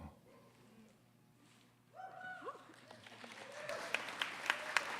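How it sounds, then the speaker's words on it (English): Scattered audience clapping on a quiz-style show starts faintly and builds into sharper, denser claps toward the end, after a stretch of quiet room tone broken by brief vocal sounds. "Why are you clapping?"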